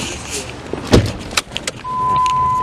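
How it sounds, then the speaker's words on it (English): Someone climbing into a Dodge SRT-4: close jangle of keys and a door thump, then a steady low hum as the car settles, with voices briefly nearby. "Hopping in his SRT4."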